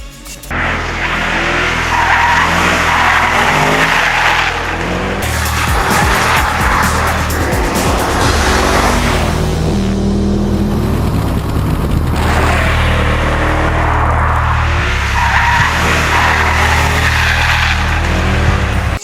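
A Mercedes-Benz C63 AMG Black Series races in a Need for Speed game, with a loud, continuous engine roar that rises and falls through gear changes, punctuated by repeated tire squeals and skids, and no talk.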